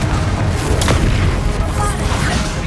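A Confringo blast spell explodes in Hogwarts Legacy, a loud booming burst layered over dense battle noise and rumble, with a voice shouting the spell.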